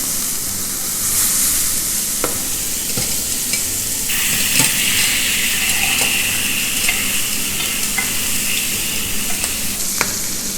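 Prawns frying in butter with lime leaves in a hot pan, a steady close sizzle running throughout with occasional clicks and taps of a utensil, no voices.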